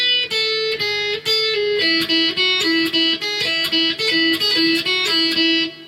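An electric guitar plays the intro riff slowly, distinct plucked notes in a steady rhythm, with sustained ringing tones.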